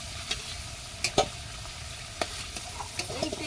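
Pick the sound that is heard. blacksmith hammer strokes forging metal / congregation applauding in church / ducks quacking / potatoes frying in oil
potatoes frying in oil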